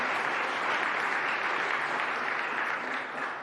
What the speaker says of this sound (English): clap, now is the time.